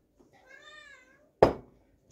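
A cat in a kitchen gives one clear, drawn-out meow, followed by a short, sharp knock or thud, both close by in an otherwise quiet room.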